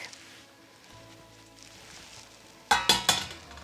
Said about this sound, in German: Die Spaghetti geben wir jetzt gleich in die Pfanne zum Speck.